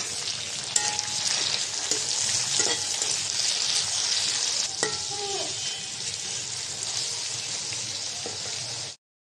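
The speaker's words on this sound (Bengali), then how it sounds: "সাথে চিংড়ি মাছ দিয়ে ভেজে নেব।" Shrimp frying with chopped onion in a wok gives a loud, steady, hissing sizzle throughout, with occasional stirring scrapes and small pops, until it cuts off abruptly near the end.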